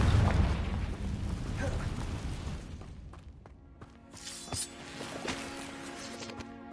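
A Confringo fire spell explodes in Hogwarts Legacy with a loud, broad burst that decays into rumbling crackle, followed by fainter magical effects and pops.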